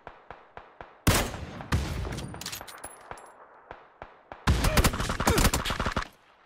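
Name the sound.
gunfire in the video game PUBG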